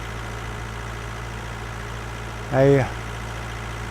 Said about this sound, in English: Rakawa 65, a 65 horsepower tractor.